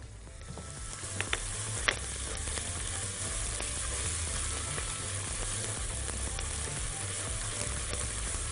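Onion frying in hot ghee in a pot, a continuous close sizzle with a bright hiss and a few sharp crackles and pops early on, steady and moderately loud with no voices.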